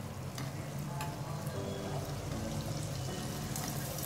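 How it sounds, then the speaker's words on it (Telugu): Burelu sweets deep-fry in hot oil, producing a continuous soft bubbling sizzle with faint clicks, even and moderately quiet throughout. "ఈ విధంగా అన్ని బూరెల్ని ఫ్రై చేసుకోవడమే"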